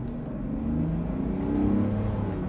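A 2022 Mercedes-Benz GLE engine revs steadily with a smooth, rising tone, building slightly in loudness toward the end, heard close and without talk.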